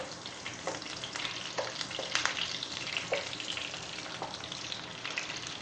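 Ginger and green chilies fry in hot oil for Kerala-style lemon rice, a steady close sizzle with soft stirring scrapes throughout and no talk.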